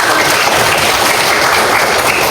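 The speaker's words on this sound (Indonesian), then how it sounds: "Udah beri tepuk tangan untuk kita semua" A class of students claps together in a classroom, a loud, close, dense wash of applause that holds steady for the whole stretch.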